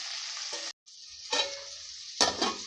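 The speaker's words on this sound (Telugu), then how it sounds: "మరి రెండు నిమిషాలు మూత వేసుకొని వీటిని ఫ్రై చేసుకోవాలి" Vegetables for sambar sizzle and fry in a pan, broad steady hiss with stirring scrapes and a short pause, fairly close and alone without talk.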